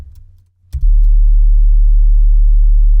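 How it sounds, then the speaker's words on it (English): Long, steady sine-wave sub bass note in D, built in Ableton as the base of an 808, starting after a brief pause and holding loud and unchanging to the end. "So now we have this long sine wave,"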